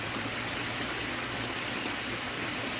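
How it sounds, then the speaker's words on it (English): Cracker Creek running on a hot day, a steady broadband rush of flowing water that stays constant and moderately loud throughout with no voices. "you can hear Cracker Creek running"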